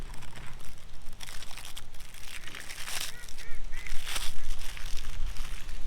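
Duck calling near a solo fishing and camping spot at a dam in Lebanon, Pennsylvania, on a windy day: repeated honking quacks in bursts over gusty wind noise, moderately close.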